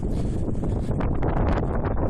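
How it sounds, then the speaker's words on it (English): Heavy wind buffeting the microphone on a coastal viewpoint at West Kirby, a constant low roaring rumble with gusty fluctuations throughout and no voices. "It's a bit windy here."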